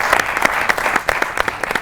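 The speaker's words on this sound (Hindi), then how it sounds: "ताली होनी चाहिए शाह जी के लिए।" A studio audience claps in a brief burst of dense, steady applause.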